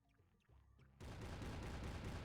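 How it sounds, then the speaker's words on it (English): Explosions in the SpongeBob Truth or Square video game, a faint patter early on before a sudden dense burst of rapid blasts that continues loud and steady to the end. "There's actually so many explosions in here"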